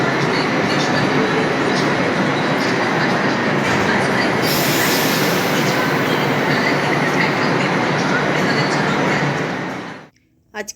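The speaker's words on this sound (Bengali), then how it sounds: "Metro station." A metro train at a metro station rumbles loudly and steadily with dense wheel and rail noise, a brighter hiss rising midway, then cuts off near the end.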